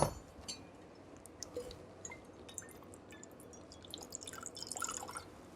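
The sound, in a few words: vodka poured into a cocktail shaker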